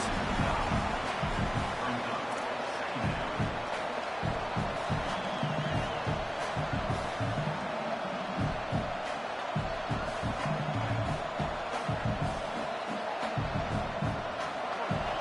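A college football video game's stadium crowd roars steadily, a dense, continuous wash of cheering and noise at constant loudness with no clear breaks.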